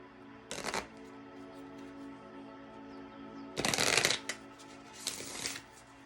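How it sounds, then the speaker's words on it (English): Tarot cards shuffled in three short riffle bursts, the middle one longest, crisp and close against a quiet hum, with no talking. "I feel like it is important for me to shuffle in front of you."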